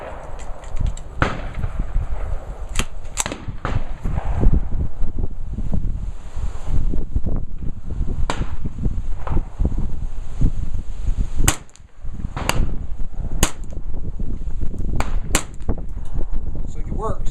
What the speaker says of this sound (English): initial test fire of the Ruger 1022 that was repaired